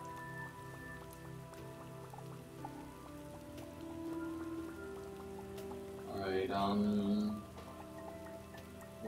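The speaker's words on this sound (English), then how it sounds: "I think I can hear rain." Rain falls in the video game Starbound, a steady soft patter under other in-game sounds, with a brief louder swell and a spoken word near the end.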